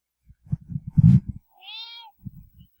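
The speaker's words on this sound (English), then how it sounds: "We have a cat." A pet cat gives a single clear drawn-out meow in the middle, close and fairly loud, between low muffled thumps and bumps before and after.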